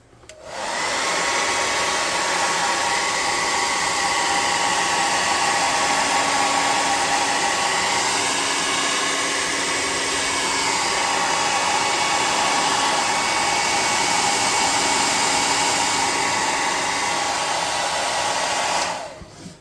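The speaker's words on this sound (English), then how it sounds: "Then we're going to hit it with the air gun and make sure it's all dry." Compressed-air gun blasting steadily to dry homemade flock on a model tree, a loud, continuous broadband hiss that starts abruptly, holds for nearly twenty seconds and cuts off at the end, with no talking.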